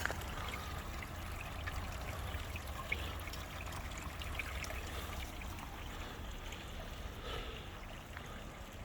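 Water keeps trickling and flowing in a cold outdoor pond, a faint, steady gurgle with no voices.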